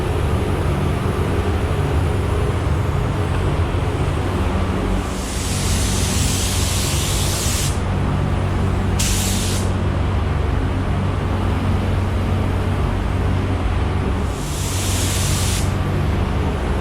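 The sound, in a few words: spray painting a coat onto a Kia bumper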